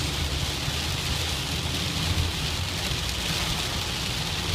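Rain falls steadily in Madison, Wisconsin during a thunderstorm, making a loud, dense hiss with a low rumbling undertone that continues unbroken throughout.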